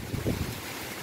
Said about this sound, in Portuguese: Olha, é muito vento.